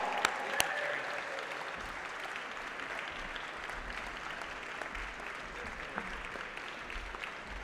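Sustained, dense applause from a large crowd at the Resilient by Design Awards as a team comes on stage, steady and full throughout, with a few sharper claps near the start.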